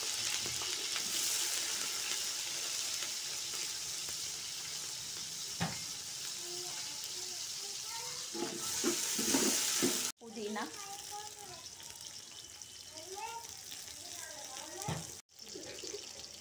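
Green chillies sizzling in hot oil in a home kitchen pan, a continuous soft crackle and hiss with brief louder spatters, fairly quiet, with a voice talking over it.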